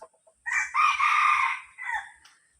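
A rooster crows once, close and loud, a drawn-out call of about two seconds ending in a falling tail, with a few faint clucks just before it.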